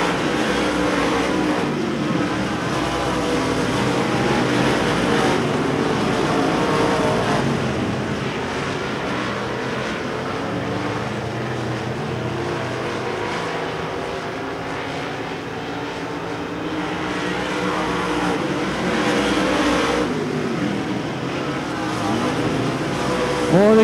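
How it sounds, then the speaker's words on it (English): Race cars circle a dirt speedway track at Devil's Bowl Speedway, a continuous loud roar of engines rising and falling as the field passes, with a commentator talking over it from a public address. "Boy, these cars are moving around this racetrack."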